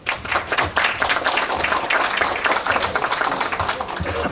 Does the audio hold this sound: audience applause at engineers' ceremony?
yes